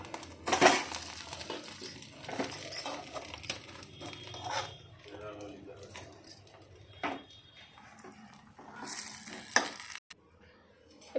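Egg fried rice with masala being stirred and tossed in a pan, with scraping and clattering spoon strokes over a low sizzle, irregular and close, with occasional louder scrapes.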